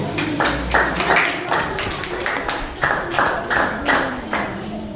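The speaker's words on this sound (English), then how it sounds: "Let's clap for them one more time." An audience at an Independence Day celebration claps for performing children, a cluster of irregular hand claps in loose bursts, nearby and moderately loud, while a voice speaks over it.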